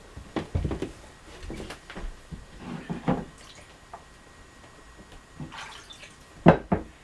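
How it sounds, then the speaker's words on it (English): Water from a tap splashes and drips as a bone-handled object is rinsed off, with scattered irregular splashes and wet clatters rather than a steady stream, fairly close. "rinse it off under water"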